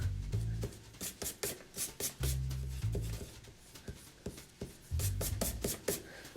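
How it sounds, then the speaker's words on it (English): An eraser rubs out pencil lines on paper in a series of quick back-and-forth strokes, close and scratchy, with a low hum underneath and no talk. "Now, I'm going to take my eraser and erase all these pencil lines so that it looks nice and neat."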